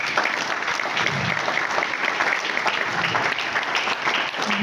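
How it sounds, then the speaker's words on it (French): Sustained, dense audience applause at a union training session, loud and continuous from start to finish with no break. "Est-ce qu'on peut encore applaudir,"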